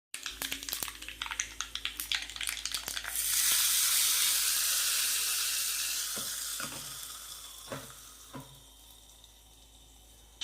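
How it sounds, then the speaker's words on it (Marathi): Mustard seeds, curry leaves, red chillies and a pinch of asafoetida hit hot oil in a small tadka pan, sending up a loud, steady sizzle with a few spluttering pops before it settles and slowly fades. "त्यामध्ये टाकलेली मोहरी, कढीपत्ता आणि लाल मिरच्या टाकलेल्या आहे तडक्यासाठी"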